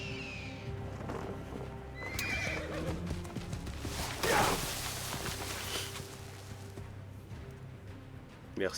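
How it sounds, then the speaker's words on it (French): A horse in the video game Assassin's Creed Origins, clear neighing whinnies mixed with rhythmic clip-clopping hooves walking nearby, fairly quiet overall with brief faint talk. "Mon cheval."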